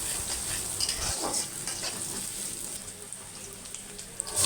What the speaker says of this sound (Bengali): কয়েকটা কাঁচামরিচ দিয়ে দিলাম, নাড়াচাড়া করে হালকা একটু ভেজে নেব